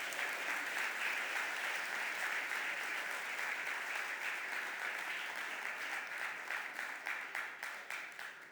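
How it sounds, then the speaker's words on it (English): Audience applause in the Philadelphia City Council chamber during the mayor's budget address, a full steady clapping that holds for several seconds, then thins into scattered individual claps near the end. "Give that a round of applause."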